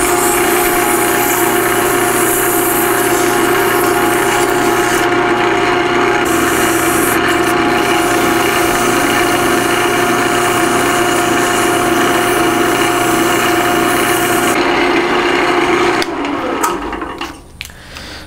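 Sandpaper rubbing an acrylic pen blank spinning on a wood lathe at low speed, a loud continuous whirring rasp with a steady motor hum that winds down near the end, with no speech.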